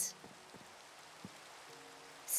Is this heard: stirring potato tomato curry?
no